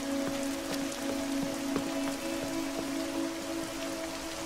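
Rain falls steadily as a constant soft hiss of drops striking surfaces, with scattered sharper raindrop ticks close by and a low steady tone running underneath, and no voices.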